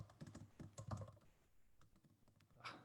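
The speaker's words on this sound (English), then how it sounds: "I've got a new keyboard here" Fingers typing on a new computer keyboard, a quick close run of soft clicking keystrokes with a brief pause and a final tap, quiet and alone.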